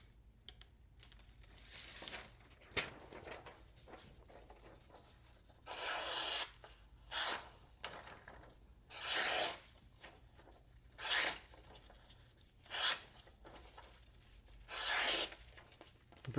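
A sharp fixed-blade knife with a compound grind slices through paper in about six separate short rasping strokes, close and quiet, with soft pauses between cuts.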